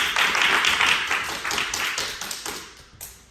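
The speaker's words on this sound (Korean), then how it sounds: "박수" Applause from an audience at a mentoring meetup in Cheonan, a dense patter of clapping at moderate loudness that thins and fades out over a few seconds with no talk over it.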